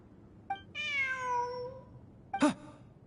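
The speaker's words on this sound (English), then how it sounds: "Look! A cat!" Two cat meows inside the video game Genshin Impact: a long, drawn-out, tonal meow up close, then a short, sharp second mew a moment later, with quiet surroundings and no talking.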